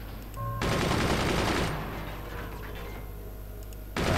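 Machine guns firing in the strategy game Forts, a sustained rattling stream of rapid shots that fades somewhat, then swells again near the end.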